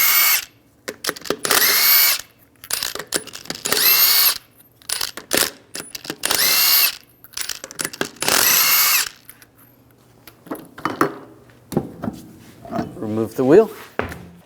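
An impact tool fitted with a 22mm socket spins lug nuts off the wheel of a Ram 1500 in repeated loud bursts of whirring and rattling, separated by short pauses, with clicks and handling noises between them.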